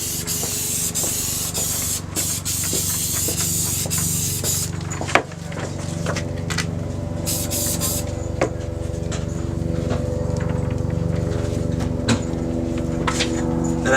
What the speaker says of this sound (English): Then I'm gonna take my spray adhesive